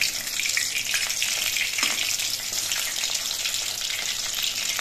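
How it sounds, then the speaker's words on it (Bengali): Water lily fritters fry in a small wok, giving a loud, even crackling sizzle with a few brief bubbling pops, steady for the whole stretch with nobody speaking. "ভেলাগুলো এক পেট কিছুক্ষণ ভাজা হয়ে যাওয়ার পর আমি উল্টে দিচ্ছি।"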